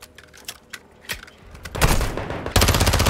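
Machine gun fire in the Call of Duty Modern Warfare 2 campaign: scattered single shots and clicks at first, then two loud sustained automatic bursts close by.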